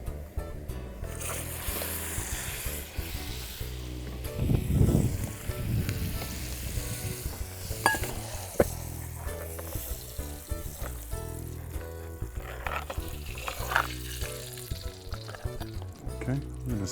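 Dungeness crab head frying in a hot wok, a soft crackling sizzle with a louder burst of spitting oil partway through, then quieter bubbling and occasional scraping.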